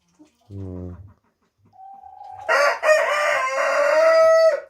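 A rooster crows loudly and nearby, one long strained call following a short low cluck or grunt beforehand.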